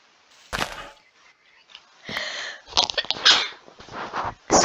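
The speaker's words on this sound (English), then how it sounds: "Sorry, I just sneezed, and I do not like sneezing into microphones." A person sneezes close to the microphone, a sharp burst followed by sniffing and breathy wheezing sounds, with no talking.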